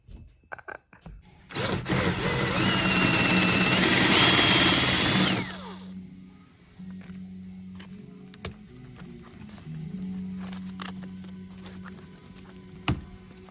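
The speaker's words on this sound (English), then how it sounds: "let's get to drilling some rivets out of my interior and my airbag" A power drill drilling out rivets in a BMW E92 M3 interior whirs loudly and steadily for about four seconds, then stops, leaving a faint hum and a few scattered clicks and taps.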